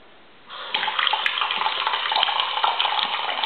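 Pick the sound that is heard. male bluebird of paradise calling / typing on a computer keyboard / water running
water running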